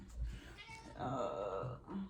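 A house cat gives a drawn-out, wavering meow, then a shorter one, heard fairly close over quiet background.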